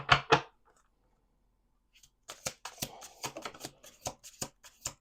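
Close, crisp tarot card shuffling: two quick riffles at first, a short silence, then a run of rapid flicks and snaps as cards are mixed.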